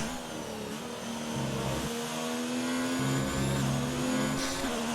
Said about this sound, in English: You can hear the engine of Hammer Time behind